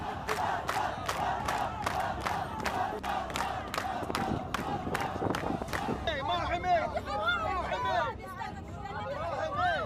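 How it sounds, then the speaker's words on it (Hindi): A Druze crowd chants slogans in Hebrew at a protest, with rhythmic, evenly spaced shouted beats for about six seconds, then loud overlapping yelling and excited voices, dense and close. "ये भीड़ हिब्रू भाषा में नेतन्याहू वापस जाओ के नारे लगाने लगी"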